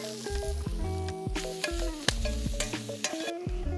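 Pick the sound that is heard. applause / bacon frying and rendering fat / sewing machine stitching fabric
bacon frying and rendering fat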